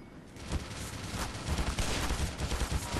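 Rapid gunfire rattles in the Black Mesa video game, a dense burst of shots that carries on loudly and unevenly for a few seconds.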